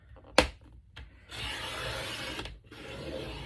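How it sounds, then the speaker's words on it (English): A paper trimmer cuts through cardboard for a Reader's Digest journal cover: a sharp click, then a steady, close scraping rasp of the blade drawn across the board, followed by a shorter second pass. "Now with my trimmer, of course, I'll have to go through it 2 or 3 times."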